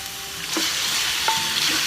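Pork going into onions already frying in a pan, sizzling steadily and loudly near at hand while a spoon stirs and scrapes, with no one speaking.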